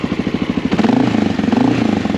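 A Honda XR650L single-cylinder engine runs just after a valve adjustment, idling with a steady, even low thump that picks up slightly in pace partway through, loud and close with no talk over it.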